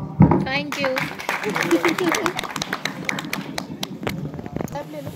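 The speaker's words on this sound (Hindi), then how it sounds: "उनके लिए मैं तालियां बजाना चाहता हूँ, वो है आप सब।" Audience at an event clapping in a dense patter of hand claps, steady throughout, with a voice speaking over it.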